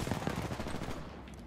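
Rapid video-game gunfire from a shooter loadout, a dense burst of close, loud shots rattling for about a second before tailing off, with no talk over it.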